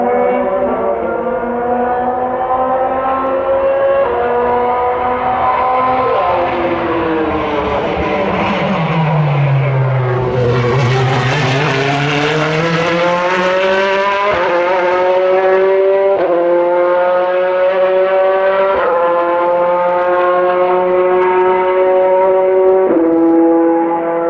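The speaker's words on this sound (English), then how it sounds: "The C8R has an entirely different exhaust note and sounds way more like a flat plane crank to me." A Chevrolet Corvette C8.R race car tested at night, its exhaust blaring a high, flat-plane-crank-like scream that rises and falls through gear changes and swells as it passes, loud and continuous.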